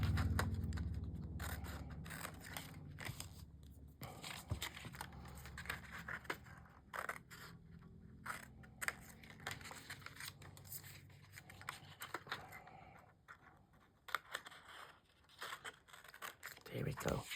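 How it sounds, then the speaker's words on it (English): Scissors snip through Graphic 45 patterned paper while a treat box gift holder is being made, giving close, irregular crisp cuts with paper rustling and handling throughout and a person talking over parts of it. "and cut them out then."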